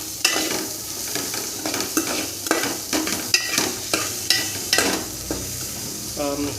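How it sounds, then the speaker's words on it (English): Potatoes and onions get stirred in a sizzling pan, with a spoon scraping and knocking against the metal in an uneven rhythm over a constant fry hiss; near and fairly loud, no speech. "So I'm going to mix it up with the onions nicely."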